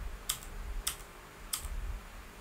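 Three separate computer keyboard key presses while coding, crisp and close, evenly spaced over a low steady room hum.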